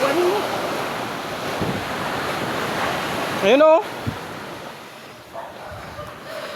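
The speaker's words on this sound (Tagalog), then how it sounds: "Lalaki po ng alon." Big sea waves crash and wash onto shore in a continuous noisy surge mixed with wind buffeting, briefly broken by a short call and a voice speaking a couple of words.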